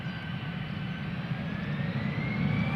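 Jet engines of an EasyJet airliner at Schiphol produce a steady low roar with a thin rising whine above it, growing slightly louder toward the end, heard from moderate distance.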